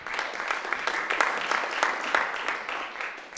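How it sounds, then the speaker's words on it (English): Audience applause at a blockchain meetup on payment processing, a steady patter of clapping from a modest crowd lasting the whole stretch, fairly close and even in level. "Give them a round of applause."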